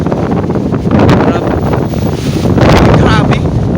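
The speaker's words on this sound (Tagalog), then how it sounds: "lakas ang hangin" Strong monsoon wind gusts and buffets the microphone outdoors near Okada Manila, a loud roaring rumble that swells toward the end, with people talking under the noise.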